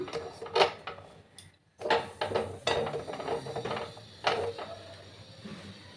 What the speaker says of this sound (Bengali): একটা কড়াই আমি বসিয়ে দিলাম।